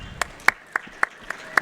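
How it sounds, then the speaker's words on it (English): Single hand claps, about seven sharp, evenly spaced slaps, close and fairly loud, with a live gaming-event setting around them and no voices over the claps. "I'm clapping for that."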